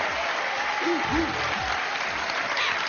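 A studio audience at a French TV word game show breaks into loud, dense applause, a steady wash of clapping with a voice briefly heard over it.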